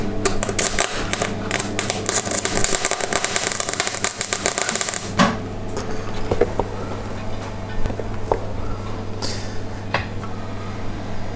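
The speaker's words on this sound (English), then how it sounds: "So now, if we have a go at the welding." Arc welding on metal, a dense, steady crackle and buzz with sharp irregular snaps, loud and continuous at first, then thinning into sparser pops.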